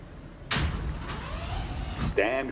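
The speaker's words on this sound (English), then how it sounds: "Stand clear of the closing doors," Doors of an R160 subway train slide shut with a sharp thud, followed by a rising whine of the train's motor, heard close amid platform noise.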